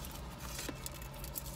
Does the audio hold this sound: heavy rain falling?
yes